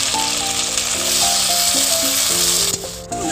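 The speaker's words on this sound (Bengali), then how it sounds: "টমেটো কুচিটাও দিয়ে দেবো।" Chopped tomato sizzling in hot oil with ginger-garlic paste and fried onion for an egg curry, a steady loud hiss with faint stirring, joined by a tonal hum with stepping pitches.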